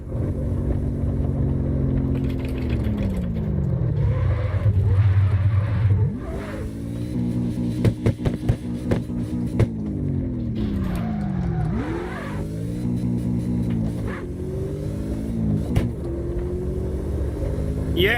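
A truck in the video game CarX Drift Racing Online drifts with handbrake slides, its engine revving up and down repeatedly over about eighteen seconds, with tire squeal and skidding throughout and a few sharp clicks.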